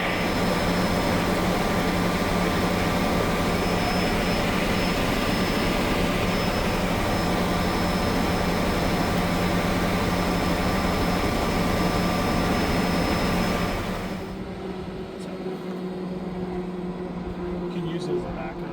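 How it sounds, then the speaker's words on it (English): A helicopter in flight on a hurricane relief supply run, its engine and rotor drone steady, dense and loud from inside the cabin before easing to a lower hum, with voices talking over it. "Look at you flying a helicopter again."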